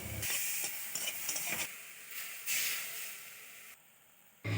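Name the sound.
frying crabs in a pan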